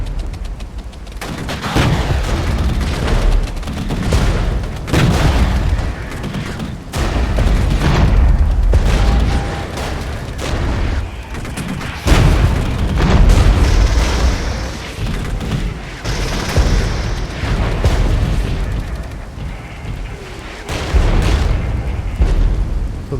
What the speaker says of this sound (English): Comes the artillery.